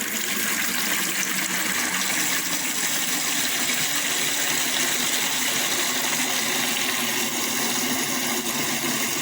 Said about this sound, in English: Just going to add cold water in.